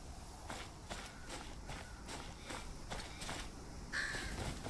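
A bird calls once near the end within the Game of Thrones Kingsroad video game, heard over a steady run of footsteps and a constant background wash.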